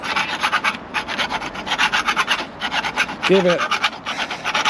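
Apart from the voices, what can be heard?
Filing burrs off threaded textured conduit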